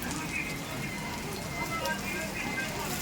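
Chopped tomatoes and finely cut mushrooms fry in a pan with a steady, crackling sizzle, close and moderately quiet, like light rain pattering throughout.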